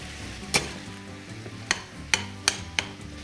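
Minced meat frying in a pan with pepper, onion and garlic gives a low steady sizzle, broken by five sharp scraping clacks of a spatula against the pan, close and with no talking.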